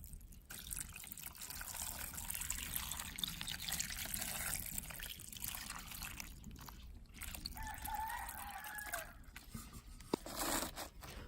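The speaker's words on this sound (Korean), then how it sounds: "이제 우리가 이 국물 해놓은 거, 이거를 그냥 이렇게 서서" Homemade kimchi broth is poured over cucumber water kimchi with a soft, continuous trickling and splashing, while a rooster crows faintly in the distance partway through.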